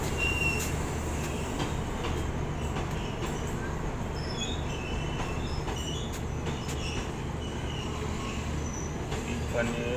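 Chetak Express, an Udaipur City to Delhi Sarai Rohilla train, at Mavli Junction on a single-line route, heard from inside another train as a steady rail rumble with brief wheel squeals and clicks, voices faint in the background.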